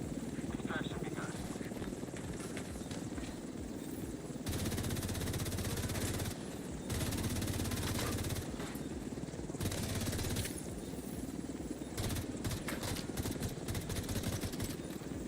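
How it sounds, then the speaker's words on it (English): A video-game helicopter hovers while waiting for an extraction, its rotor making a dense, continuous drone through the whole stretch, with bursts of automatic gunfire breaking in throughout. "Chopper will leave in 30 seconds."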